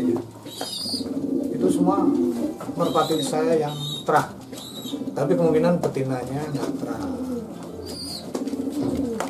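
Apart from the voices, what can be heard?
pigeons cooing in a coop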